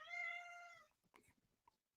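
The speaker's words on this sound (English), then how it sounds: "Got an appearance by the cat." A house cat gives one drawn-out meow, close and clear, followed by a few faint soft rustles and small thumps.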